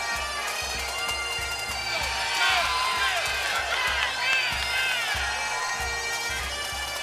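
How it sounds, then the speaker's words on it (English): A wrestling arena crowd in Chicago roars in a sustained ovation, cheers and whoops swelling loudly with scattered clapping, a dense wall of voices filling the hall throughout. "What an ovation for the icon."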